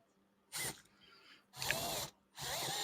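A centering hinge drill bit marks a workpiece in short drill bursts: three separate whirring pulses of under a second each, with brief quiet gaps between them and faint background noise.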